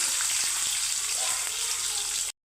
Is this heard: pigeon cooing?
no